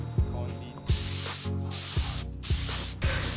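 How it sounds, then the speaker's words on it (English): An HVLP spray gun sprays paint onto Duraflex side skirts in a home setup, a loud close airy hiss in several bursts separated by brief pauses and soft clicks of the trigger. "So I guess I have no choice but to keep spraying."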